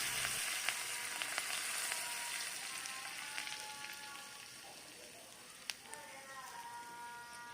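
Curry leaf tempering sizzles in hot oil for an outdoor ridge gourd and tomato chutney, a soft continuous hiss with scattered sharp crackles and pops, fairly faint.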